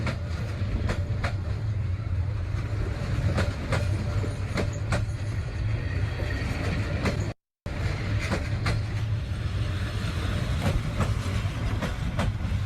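A train passes right through a fairground, producing a loud, steady rumble and rolling clatter of wheels that fills the whole stretch, with one brief dropout midway.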